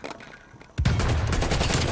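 Rapid video-game gunfire from a shooter, a sudden burst of loud overlapping shots that bursts in after a quiet start and continues densely to the end.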